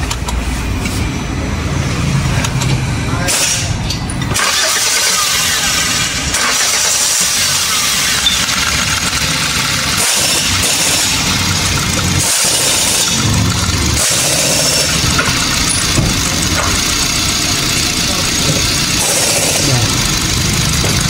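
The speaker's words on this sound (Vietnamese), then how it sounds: "Bây giờ sẽ cho lên nổ máy nha. Máy nổ đây." Car engine with VVT-i timing, freshly cleaned of sludge, cranks and fires, then settles into a slightly rough, steady idle, loud and close, with someone talking intermittently over it.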